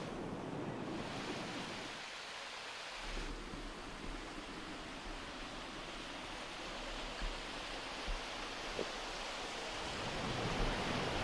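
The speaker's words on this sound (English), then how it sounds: "this is one of my favorite waterfalls" A waterfall on Limekiln Creek in Big Sur pours in a continuous broadband rush of falling water, steady and fairly close, with no voices over it.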